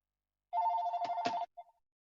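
Telephone giving one short electronic ring burst, close and clear, with a couple of sharp clicks inside it and a faint trailing blip, then silence.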